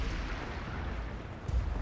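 A castle cannon fires in the shooter game Wolfenstein: The New Order, a low, distant rumble with a single deeper boom near the end and no talk over it.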